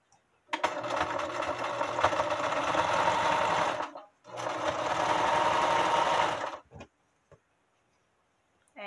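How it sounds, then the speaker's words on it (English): A sewing machine sews the raw edge of a hooded towel in two steady runs of several seconds each, whirring close by with a brief stop between them. A few faint clicks follow the second run. "Then we're going to take the raw edge and we're going to sew it together."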